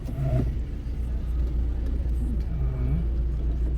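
A car on a driving-test route in Ivano-Frankivsk slows down and drops into first gear, its engine a loud, steady low rumble heard close from inside the cabin, with a slight shift in pitch partway through.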